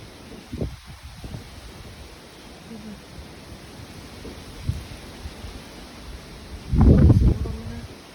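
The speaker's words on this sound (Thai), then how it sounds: "เสียงลมนะ" Strong wind blows outdoors before rain, a steady broadband rush with a few brief gusty bursts, the loudest near the end.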